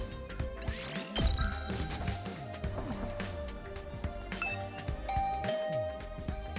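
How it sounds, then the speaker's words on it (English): A doorbell chime rings at a dorm room door in The Hundred Line: Last Defense Academy, a few bright tones over busy game music and effects, moderately loud throughout. "I ring the doorbell to Tsubasa's room."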